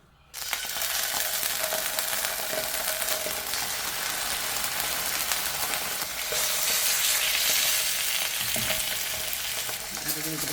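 Pork chops searing in hot oil in a pan, a loud, dense sizzle that starts abruptly and continues steadily up close throughout.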